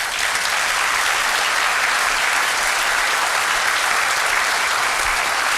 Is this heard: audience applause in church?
yes